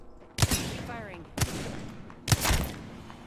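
Gunfire in the video game Apex Legends: three loud, sharp bursts about a second apart, each with a brief ringing tail, over low background game ambience.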